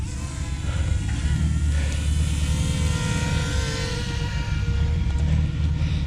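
A drone flies overhead with a steady buzzing whine of its spinning propellers mixed with a low rumbling drone, constant and fairly loud throughout, with faint breathy movement noises near the recorder.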